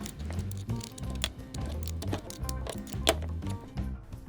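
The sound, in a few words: boxed-end 14mm wrench tightening banjo bolt on grease gun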